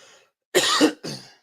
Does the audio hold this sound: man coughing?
yes